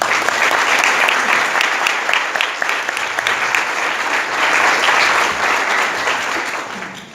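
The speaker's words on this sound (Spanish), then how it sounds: "les pido un aplauso para nuestros invitados" Audience at a panel session on biocultural territories and public policy applauding invited guests, sustained dense clapping lasting several seconds at an even level before tapering off at the end.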